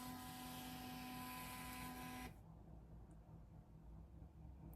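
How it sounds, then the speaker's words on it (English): A label printer runs steadily while printing a logo onto round sticker labels, a close continuous mechanical whir with a tonal whine that drops to a quieter hum midway, with no talking. "let's see if we can maybe just print like my logo on these to get it connected"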